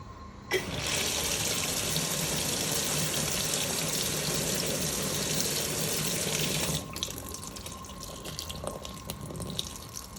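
A Simpson EZIsensor 6kg washing machine fills its tub, a loud steady gush of inflowing water running for several seconds before cutting off abruptly, leaving a faint trickling hum.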